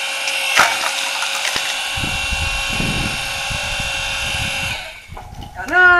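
A firewood cutting machine runs loud and steady, its droning motor with rhythmic mechanical ratcheting and thumps of wood being cut, before the machine winds down near the end.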